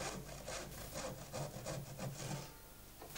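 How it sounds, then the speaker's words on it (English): A hand saw cuts slits into a wooden model railway baseboard top, making a series of rhythmic rasping strokes that are quiet and close, with the last second trailing off. "the baseboard top is slit with a saw each side of the section to be raised"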